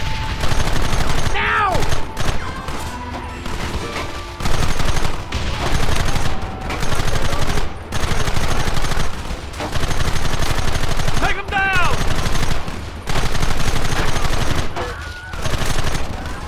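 Rapid gunfire from a Wild West shootout in the video game Red Dead Redemption, dense bursts and volleys continuing throughout with shouted voices mixed in over the shooting.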